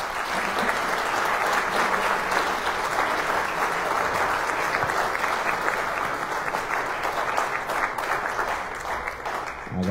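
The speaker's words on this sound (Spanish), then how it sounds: "Le recibimos con un caluroso aplauso." Warm, sustained applause from a conference audience welcoming a guest speaker at a seminary lecture, dense and steady for the whole stretch with no voices rising above it.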